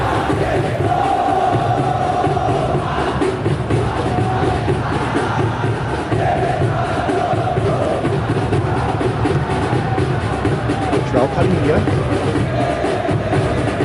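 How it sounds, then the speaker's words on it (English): A large stadium crowd at a football match between Indonesia and Tottenham Hotspur roars and groans after a close chance, a sustained swell of yelling and cheering beneath a commentator talking. "Crowd reaction tells you just how close that was"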